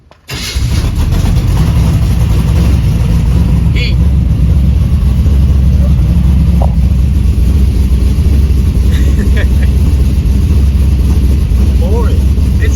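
A Chevrolet C10 truck engine cranks, catches, and settles into a loud, steady idle that rumbles on without a break, heard up close.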